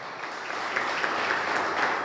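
A church congregation applauds together during a Friday worship service, a steady dense wash of clapping held at an even level from start to finish with a faint voice underneath.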